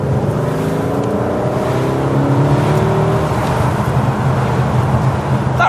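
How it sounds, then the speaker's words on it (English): A deep, throaty 4-litre twin-turbo V8 engine in a 2020 Aston Martin DB11 Volante rumbles and revs steadily nearby, its pitch rising and falling, with no talking. "That race-ready rumble comes from the 4-litre twin-turbo V8"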